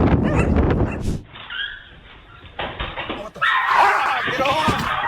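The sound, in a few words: guard dog barking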